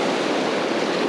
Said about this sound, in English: I'm getting hit by the waves